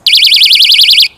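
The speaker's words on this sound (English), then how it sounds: "personal alarms," A personal self-defense alarm gives a loud, shrill, rapidly warbling tone for about a second and then cuts off abruptly.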